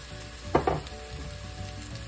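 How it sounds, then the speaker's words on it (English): Chopped onions frying with salt in a cooking pot, a steady close sizzle with two brief stirring scrapes early on, no voices. "add us a little bit of salt, and that'll help those onions start cooking down"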